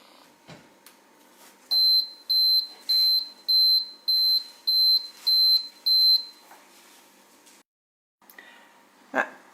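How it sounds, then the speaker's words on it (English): A Homever 2LB automatic bread maker gives eight evenly spaced, shrill electronic beeps to signal that the bread is ready. A short pause follows, then a faint clatter. "That beeping sound was the sound of the bread being ready"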